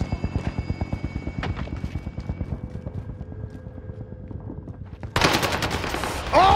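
Rapid automatic bursts from a Marco 5 gun fired with no recoil in Call of Duty at Fortune's Keep, a dense rhythmic stream of close shots that thins out before louder game action takes over, with no talk.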